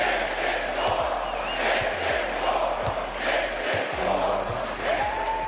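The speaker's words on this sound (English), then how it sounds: "Take a listen to the final seconds what the MSG crowd was chanting." A Madison Square Garden crowd at a Knicks game roars and chants in unison, a dense, continuous wash of voices filling the arena with swelling rhythmic surges.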